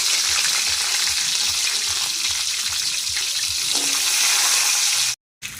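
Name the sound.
giant river prawns frying in hot oil in a wok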